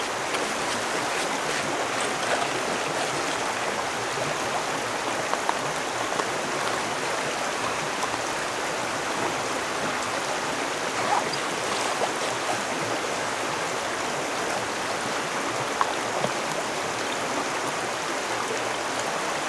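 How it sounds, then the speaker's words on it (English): Water trickling through a Be Free filter into plastic bottles outdoors on a wilderness backpacking trip, a steady close hiss of flow running unbroken without talk. "I'll just start filtering the water into my smart water bottles"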